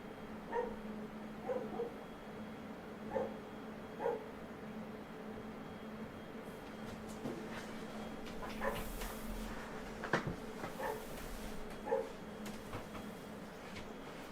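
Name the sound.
dog barking out back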